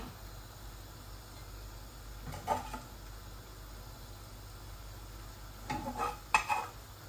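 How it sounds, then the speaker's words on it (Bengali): Tilapia cooking in a pan of simmering curry gives a steady low sizzle and bubbling hiss, broken by two short bursts of scraping and stirring, one early and a pair near the end. "এই যে অল্প করে মাছ রাঁধতেছি"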